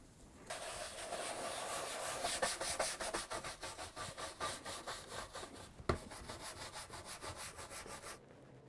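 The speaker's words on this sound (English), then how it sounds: "So I spot clean the inside of the case with a cotton cloth." A cotton cloth rubs steadily against the inside of a BBC Micro computer case, a close, even scrubbing with rhythmic back-and-forth strokes and one sharper knock partway through, with no talking.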